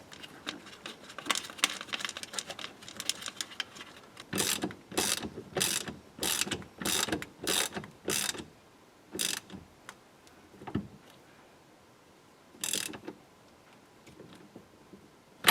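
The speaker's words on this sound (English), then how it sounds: "you're going to use the nut itself to press the steering wheel back on" Ratchet wrench tightening the nut that presses a Chevrolet Trailblazer steering wheel back onto its shaft, heard as a quick burst of clicking followed by a steady series of loud, evenly spaced ratcheting strokes, close up with no talk.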